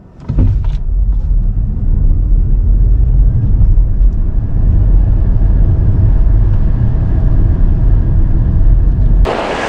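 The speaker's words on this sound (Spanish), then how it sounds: "Pisamos freno y acelerador a fondo y a ver qué pasa." A 2022 Ford Mustang Mach-E electric car in its sportiest drive mode launches at full throttle from a brake hold, a loud, steady rush of road and wind roar building from inside the cabin for several seconds before cutting off.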